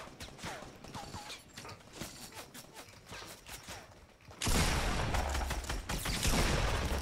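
A SCAR rifle in a shooter game fires in rapid, cracking shots and bursts, scattered at first and then merging into a denser, louder barrage partway through.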